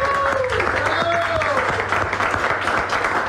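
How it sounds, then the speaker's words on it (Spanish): Steady crowd applause at a paso doble performance in Costa Rica fills the space throughout, with a few whistle-like tones sliding up and down over the clapping. "Por favor, un aplauso por esta oportunidad."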